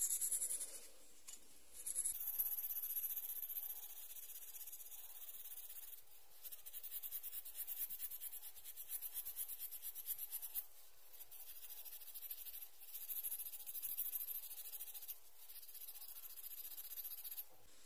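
Tarnished silver being scrubbed with a scrubber and cleaner, a steady close-up rubbing and scraping that runs in repeated strokes throughout, with no voices.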